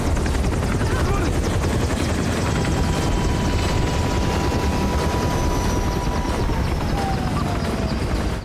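An old Huey helicopter flies close overhead, its loud, steady rotor chop and engine roar filling the whole stretch without a break.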